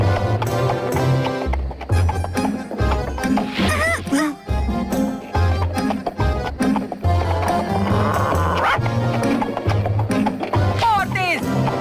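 Cartoon horse hooves clip-clopping at a rapid gallop in an animated Anastasia film, steady beats running under loud orchestral music and a voice.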